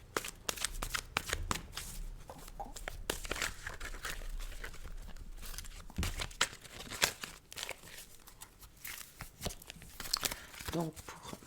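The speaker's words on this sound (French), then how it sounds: "je vais tirer 3 cartes pour vos énergies" Tarot cards shuffled by hand at close range, a rapid run of riffling flicks and papery snaps in bursts, with occasional card slaps as cards are drawn.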